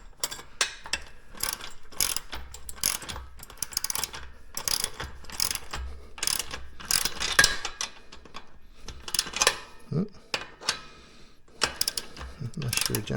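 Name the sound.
ratchet tightening bolts on a home gym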